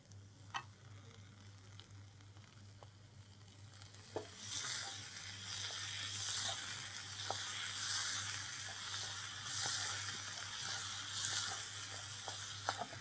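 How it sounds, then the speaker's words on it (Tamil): Onion and tomato frying in oil in a pan, a quiet steady sizzle with a few light clicks of stirring, the hiss swelling slightly midway and holding to the end. "இது ரெண்டுமே இப்போ நல்லா எண்ணெயில் ஃப்ரை ஆயிடுச்சு"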